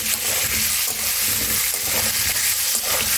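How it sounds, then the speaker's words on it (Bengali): Masala for a Bengali mutton curry frying in a pan, giving a steady, close, loud sizzle with faint scraping from stirring throughout. "ভালোভাবে ভেজে দেবো।"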